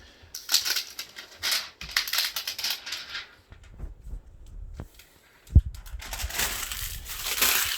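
Adhesive backing peeled off an over-the-air antenna mount, crackly crinkling and tearing noises in bursts, a quiet stretch, a single sharp tap, then more rustling close by.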